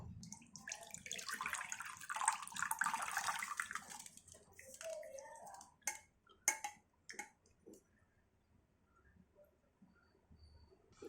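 Dissolved jaggery water strained into a bowl, a close pouring and trickling rush for several seconds that tapers off into a few sharp clinks and faint drips.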